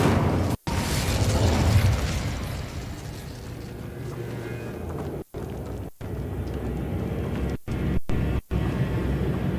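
In Hogwarts Legacy, spells like Incendio erupt as a dense, roaring burst of fiery explosions and pops, loud and sustained for several seconds and broken by brief sharp gaps.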